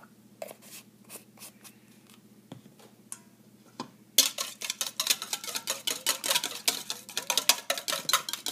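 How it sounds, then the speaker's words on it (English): A whisk stirring cinnamon into a mixture in a bowl, starting with a few scattered taps and clinks, then breaking into a fast, steady scraping and clicking rhythm of wire against the bowl, close and clear. "Add 1/4 teaspoon of cinnamon and stir with the whisk."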